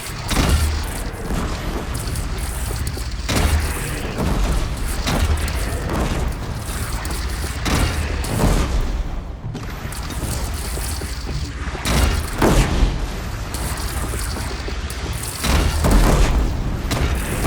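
Heavy cannon fire and explosions in a Horizon Zero Dawn battle, a barrage of booming blasts and rumbling bursts arriving in repeated loud waves, dense and close, with no voices over them.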